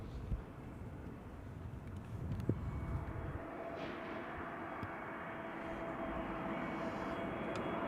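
A KLM Airbus A321neo twin jet arrives at Schiphol, passing close overhead as a steady, moderate engine rumble that builds slightly over several seconds against open outdoor ambience.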